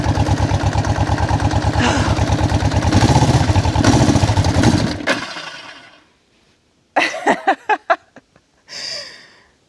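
A small choked engine sputters, catches and runs roughly for a few seconds, then dies away, leaving silence broken by a few short exclamations from a nearby person.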